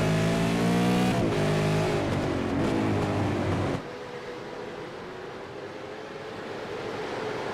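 A V8 Supercar race car on track, its engine loud and close as revs climb and shift in smooth sweeps before dropping to a duller, steady roar.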